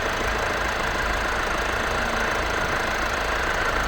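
A 1.6-litre diesel engine in a 2017 Peugeot 3008 automatic idles steadily at close range, a constant low rumbling drone with no voices.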